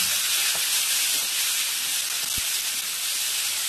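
Chopped tomatoes fry in hot oil for a dry capsicum stir-fry, giving a loud continuous hiss with a couple of faint knocks and no talking.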